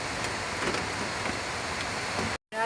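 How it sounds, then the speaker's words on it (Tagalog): Heavy rain pours steadily as a broad, dense hiss in the Philippines, loud and constant with faint patter, cutting off briefly near the end before resuming. "Grabe, lakas na ulan si Kuya dito rin sa Bukana"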